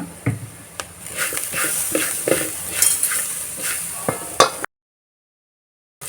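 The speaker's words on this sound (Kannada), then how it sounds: "ಇದನ್ನು ಇವಾಗ ಸ್ವಲ್ಪ ಹೊತ್ತು ಫ್ರೈ ಮಾಡ್ಕೊಳ್ಳೋಣ" Bitter gourd palya with grated coconut and onion fries in a pan while being stirred. There is close sizzling and repeated scraping utensil strokes for several seconds, then a sudden drop to silence near the end.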